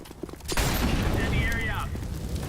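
Incendiary grenade tossed in CS:GO, a sudden burst of whooshing, crackling noise starting about half a second in, with a brief rising whistle over a sustained roar and voices murmuring underneath.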